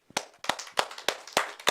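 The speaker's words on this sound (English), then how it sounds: "Clap your hands." A group of people clapping their hands during a health exercise session, several quick, sharp claps with a ragged rhythm, close and fairly loud with no talking.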